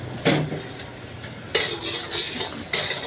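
Duck sizzles steadily in a hot wok while a metal utensil scrapes and stirs in a few sharp strokes.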